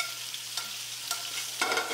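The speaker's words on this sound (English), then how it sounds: "Now as the salmon cooks, I want to take that salmon, I'm going to baste it" Salmon fillet sizzling in a hot pan as it is basted, a steady close hiss with small spattering pops as fat is spooned over it.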